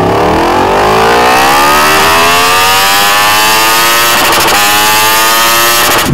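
A Yamaha R1M 2021 motorcycle with an Akrapovic full exhaust revs hard and loud close by, engine pitch climbing steadily through a long acceleration, with a brief choppy stutter near the end.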